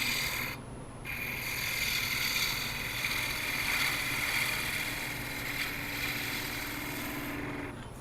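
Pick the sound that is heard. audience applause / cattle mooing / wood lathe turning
wood lathe turning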